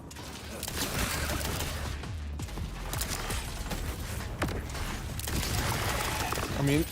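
Torgue pistol firing in Borderlands 4, a dense stream of heavy mechanical shots and explosive clatter running almost continuously, with someone talking faintly underneath.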